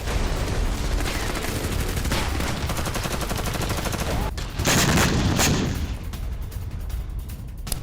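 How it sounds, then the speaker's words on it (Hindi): A sustained roar of rapid gunfire-like blasts gives way to several heavier explosions one after another in an attack during the Russia-Ukraine war, loud and continuous throughout. "एक के बाद एक धमाके।"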